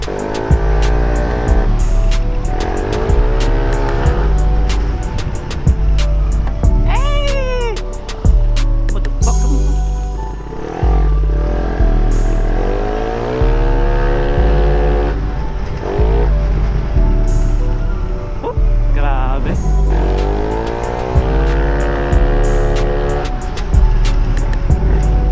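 A tuned Yamaha NMAX scooter, bored up to 195cc, revs hard on a test ride, its engine rising and falling repeatedly in loud, close surges of acceleration.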